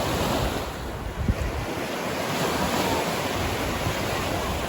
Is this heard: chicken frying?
no